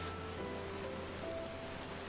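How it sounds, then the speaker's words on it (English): Heavy rain falling in Final Fantasy XIV, a steady, soft hiss of downpour heard at low volume beneath sustained background music tones. "fitting right now that it's just raining heavily"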